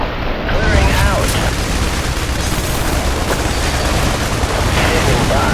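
Airstrike explosions and gunfire in the IS Defense video game, a dense, loud barrage of booms and rattling shots filling the whole stretch, with scattered whistling and higher crackles on top.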